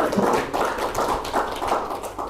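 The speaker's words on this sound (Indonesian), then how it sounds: "Tepuk tangan untuk Ustaz Sofyan." Audience applause for a religious lecturer at a large Islamic study gathering and book discussion, a steady burst of clapping that stays fairly loud and pulses in waves across the whole moment, with no talk over it.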